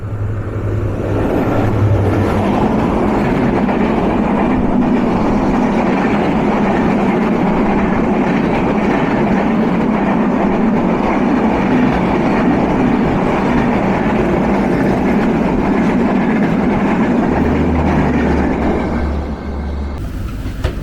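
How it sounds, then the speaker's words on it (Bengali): Ekota Express passing straight through Mirzapur railway station on a cloudy, rainy day, a steady loud rumble and clatter of the train going by close at hand for about twenty seconds, with no talk. "উত্তরের king the beauty queen Ekta express থ্রুপাস যাচ্ছে মির্জাপুর রেলওয়ে স্টেশন"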